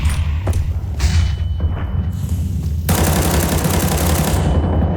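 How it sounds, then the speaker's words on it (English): A flashbang grenade detonates in a tactical video game, a sudden bright burst that gives way to a sustained harsh hiss amid a steady low rumble of gameplay noise and scattered thumps. "Flashbang."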